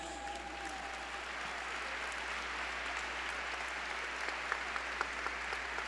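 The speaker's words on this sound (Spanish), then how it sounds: "Vamos a recibirla con un fuerte aplauso." An audience at a forum event claps continuously in an even, dense wash of applause, fairly distant and low in level, with a few sharper claps standing out near the end.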